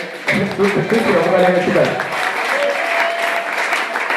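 A church congregation breaks into sustained applause in praise of the Lord, a dense, steady wash of clapping filling the hall with voices and a tonal hum mixed in.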